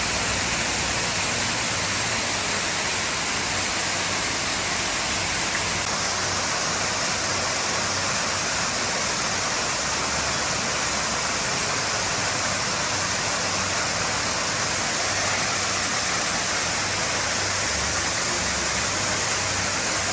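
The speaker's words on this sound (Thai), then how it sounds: "ยิ่งเห็นสายน้ำตก" A waterfall in a Himavanta Forest-themed garden roars in a steady, dense, full-spectrum wash, loud and close, unchanging for twenty seconds with no voices.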